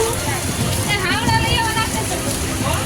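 Heavy rain pours down in Surat city, a dense steady hiss of drops striking surfaces that fills the whole stretch while people chatter and call out over it.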